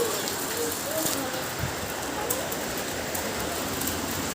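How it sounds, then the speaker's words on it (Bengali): Heavy rain pours outside, a dense, steady hiss of drops hitting surfaces that stays close and unbroken throughout. "দেখো কত জোরে বৃষ্টি এসছে"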